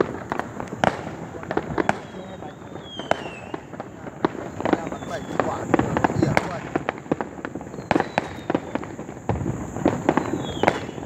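Tet New Year fireworks and firecrackers going off in a dense, continuous barrage of sharp cracks and bangs with occasional whistling rockets, with voices heard in the background.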